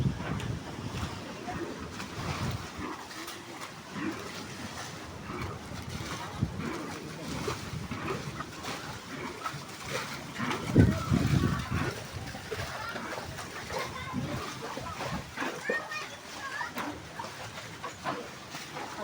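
Sea surf driven by Typhoon Carina's storm surge washes in among houses, a continuous roar of breaking water and gusting wind buffeting the microphone, with a heavier surge near the middle and voices faintly under the noise.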